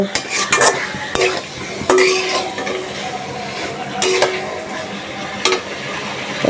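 Boal fish pieces with spices fry in a pan on a rainy day, a steady sizzle broken by sharp clinks and scrapes of a spoon stirring against the metal.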